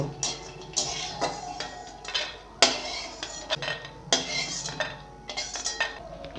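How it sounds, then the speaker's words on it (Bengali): Roasted peanuts scraped and scooped out of a dry hot wok, with repeated metallic clinks and scrapes of a utensil against the pan in an irregular rhythm, close and fairly loud. "বাদামগুলো ভাজা হয়ে গেছে এবারে তুলে নিব"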